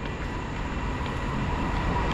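A train rolls past on the railway, a steady, loud, continuous rumble of wagons and wheels on track that stays close and constant throughout, with no voices over it.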